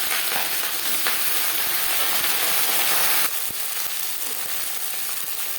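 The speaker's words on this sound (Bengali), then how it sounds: "এই পর্যায়ে দিয়ে দেব কালো সর্ষে" Black mustard seeds fry in hot oil in a pan, a bright crackling sizzle with scattered pops, loud at first and easing slightly partway through, with no voices.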